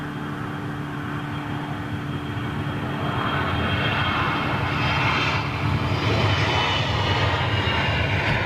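An EasyJet jet airliner passes overhead as a steady, broad engine roar that swells gradually and stays loud to the end, with no talk.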